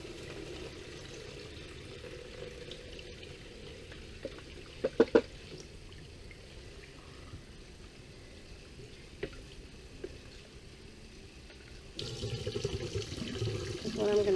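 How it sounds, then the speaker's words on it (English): Buttermilk trickles and splashes softly through a strainer in the background, with a few brief clinks, and a fuller, louder rush of pouring near the end. "I'm going to pour this through a strainer."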